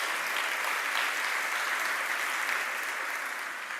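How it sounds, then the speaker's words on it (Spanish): A church congregation claps loudly and continuously, a thick, even roar of hands that fills the space throughout and tapers only slightly at the end. "Aplauda más fuerte porque el perdón de Dios es el número uno."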